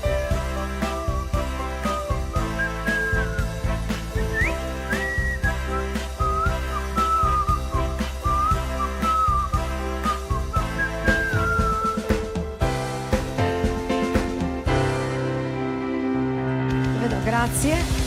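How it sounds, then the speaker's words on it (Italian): Someone whistles a melody live over a band playing sixties songs at a bar's themed night, the bright, wavering tune riding clearly on top of steady drums and guitar before the music breaks off. "Senti come fischietta e non lo fa solo via orale."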